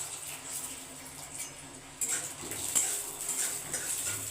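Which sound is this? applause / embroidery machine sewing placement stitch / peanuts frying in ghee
peanuts frying in ghee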